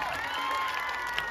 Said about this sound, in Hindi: जब तक आपकी जोरदार तालियां नहीं होगी, अब्दुल के लिए जोरदार तालियां।